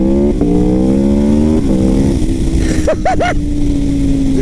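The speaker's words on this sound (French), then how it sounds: "Mais regardez, je mets gaz en grand." A 217 hp Aprilia RSV4 sport motorcycle engine drones at steady pitch, then snaps out three quick rising throttle blips, loud and close.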